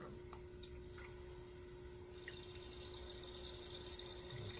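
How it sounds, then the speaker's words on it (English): A laboratory vacuum pump runs for Buchner funnel filtration, a steady low hum with faint gurgling and hiss, constant and unbroken throughout. "Start the vacuum."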